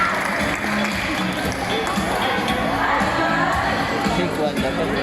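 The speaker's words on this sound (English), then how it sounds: "How about round of applause for Mighty Bird Blue?" Audience applause at a bird show at Ocean Park Cebu, following a blue-and-gold macaw display: steady, dense clapping mixed with crowd chatter, holding at an even level throughout.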